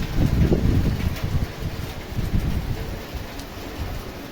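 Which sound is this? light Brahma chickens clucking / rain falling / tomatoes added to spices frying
rain falling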